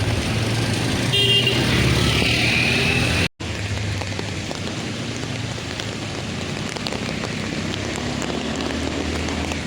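Heavy rain pours steadily on a Mumbai street, a dense broadband hiss running throughout with passing traffic and an occasional car horn beneath it, broken only by a brief cut near the start.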